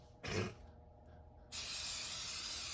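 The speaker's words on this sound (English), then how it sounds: "you want to spray it a little bit, so stuff don't stick" Cooking spray hisses from an aerosol can into an air fryer basket: a short burst, a pause, then a longer sustained spray up close, loud and steady with no talking.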